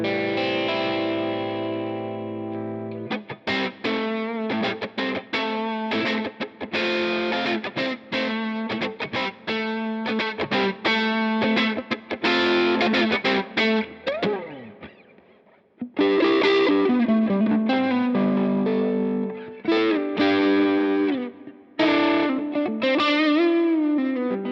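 Electric guitar through an amp simulated by a Two Notes Torpedo Captor X, played with a fat clean humbucker tone in a plate reverb room, chords and single notes ringing with shimmering effects and a brief pause midway.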